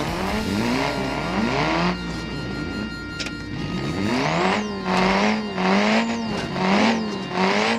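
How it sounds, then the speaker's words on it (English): A race car engine in BeamBreaker revs and throttles while the car lies flipped upside down, wavering whining pitch rising and falling repeatedly, loud and close, with tyre-like squeals over the engine. "just throttling around in here, upside down"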